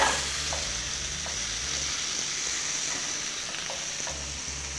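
Potato slices frying in oil in a pan and being turned over, a steady sizzle with soft scraping stirs and faint clinks throughout.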